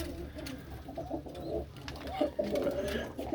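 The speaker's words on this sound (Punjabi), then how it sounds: "ਕਬੂਤਰ ਦੇਖੋ ਇਧਰ ਕਿੰਨੇ ਘਟ ਗਏ" Pigeons cooing close by in soft, repeated low calls over steady background noise on a rooftop loft, with no clear talk.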